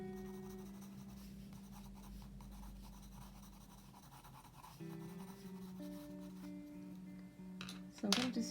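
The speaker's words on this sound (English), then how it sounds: "I'm now holding my pencil a lot closer to the tip, helping me just to put a little more pressure" Graphite pencil shading a pumpkin drawing on paper, held close to the tip with firm pressure, gives a steady close scratchy rasp of strokes that continues throughout, ending in a few louder scrapes.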